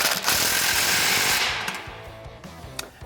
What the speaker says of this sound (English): I'm going to take my 15 millimeter, my 3/8 gun, tighten our clamp up here